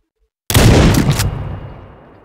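A weapon fires in GameGuru: one sudden, loud blast or brief burst that cuts in from silence, then a long echoing tail that fades over about a second.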